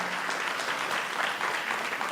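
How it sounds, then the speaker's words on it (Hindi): Audience at a theatre festival applauding a play's director, a dense, steady wash of hand claps filling the room from start to finish with no talk over it. "जोरदार तालियों से अभिनंदन देबीना जी का।"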